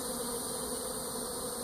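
Honey bees robbing honey frames set out in front of a beeyard, a steady, dense buzzing of many insects close by with no gaps.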